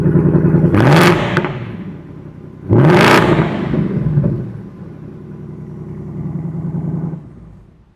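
A Ford Mustang engine with track-only exhaust revs hard twice with a loud, raspy exhaust roar, then settles into a lower rumbling idle that fades at the end.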